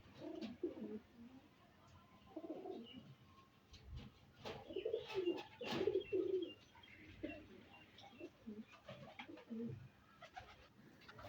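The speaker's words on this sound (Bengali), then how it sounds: "এটা একটা সিঙ্গেল চীনা টেডি কবুতরের বাচ্চা" Soft, repeated coos from a single Chinese Teddy pigeon chick come in short low bursts, with a louder cluster in the middle, alongside faint chirps and light background rustle, close and fairly quiet.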